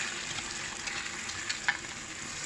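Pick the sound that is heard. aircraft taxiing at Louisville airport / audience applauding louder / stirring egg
stirring egg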